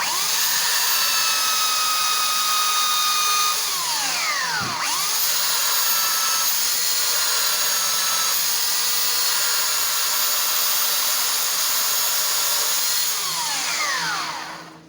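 A belt sander grinds aluminum bracket stock for an aircraft build, a loud, continuous high-pitched whine whose tone dips and rises as the metal is pressed against the belt.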